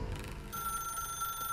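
A telephone rings in the video game The Stanley Parable, a steady electronic ring that starts partway through over a soft low background, with no speech.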